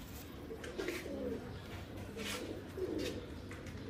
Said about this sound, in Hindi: ये दोस्तों वो परिंदे हैं जो इंशाल्लाह ताला 28 को बाजी में उड़ेंगे